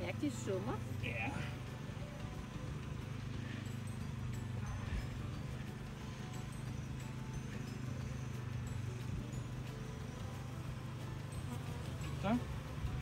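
Honeybees buzz continuously around a beekeeper after their wax has been taken, a steady droning hum close by with occasional louder passes, while people talk quietly over it.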